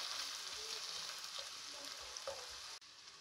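Small chopped onions fry in a pan for ketchup chickpeas, giving a steady bright sizzle with a few soft stirring scrapes. The sizzle drops off abruptly near the end.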